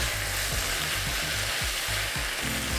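Vegan gluten-free Korean fish cake (eomuk bokkeum) stir-frying in a pan gives a steady, loud sizzle, with spatula scrapes and taps repeating every second or so and no talking.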